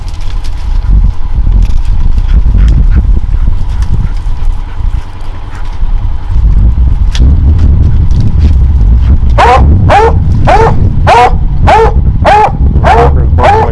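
Coon hunting hounds in southern New Mexico, barking and baying repeatedly from a short distance under trees at night, a rhythmic series of loud barks over heavy rumbling background noise.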